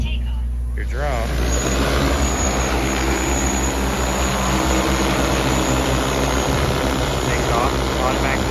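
Large farming drone lifting off, a loud continuous rotor roar with a low engine-like drone that holds steady throughout, the obstacle-detection beeping not clearly separable beneath the noise.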